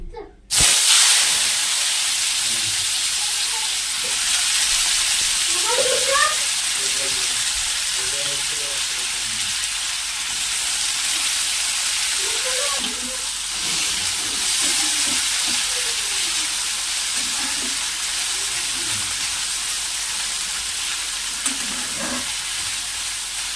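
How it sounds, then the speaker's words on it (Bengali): Potatoes frying in a pan, a loud steady close sizzle and hiss running throughout after a sharp opening bang, with faint stirring scrapes and clinks. "একটু আলু ভাজা বসালাম"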